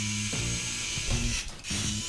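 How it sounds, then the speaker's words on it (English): Pliers grip and turn a tiny screw at close range, giving short bursts of ratcheting mechanical clicks and grinding separated by brief pauses. "I'm gonna use my pliers here."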